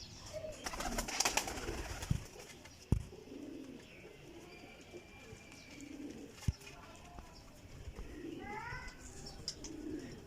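Teddy Golden, a champion racing pigeon, coos in soft low repeated phrases, faint and steady, with a few sharp knocks and light chirps over a quiet background hiss.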